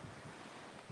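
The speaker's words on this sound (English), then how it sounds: "It is extremely windy. The surf is really rough." Strong wind buffets the microphone over rough surf breaking on a beach during surf fishing, a steady loud roar with surging swells and no voices.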